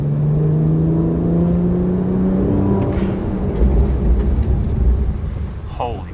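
BMW 1M braking hard on Brembo GT brakes, a loud steady engine and road roar falling in pitch as the car slows, with rumbling wind noise throughout.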